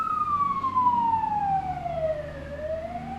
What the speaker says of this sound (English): Oh, it's a fire engine.